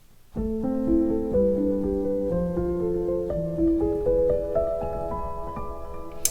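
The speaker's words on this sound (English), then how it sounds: "I'm actually using a patch from Spectrasonics' Omnisphere library, more specifically the Keyscape Creative Suite that they just released this past week." A cinematic, dreamlike piano patch from Spectrasonics Omnisphere's Keyscape Creative Suite with a touch of echo plays a theme from Final Fantasy IX, a steady gentle melody over sustained low notes, solo.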